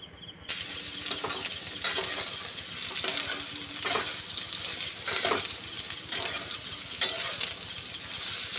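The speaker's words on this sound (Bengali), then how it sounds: "এখন সয়াবিনটা এর মধ্যে দিয়ে ভালো করে ভেজে নেব।" Soybean chunks fry in hot oil in a nonstick pan, a soft continuous sizzle with intermittent scraping strokes of a spatula stirring, moderately quiet and without talk.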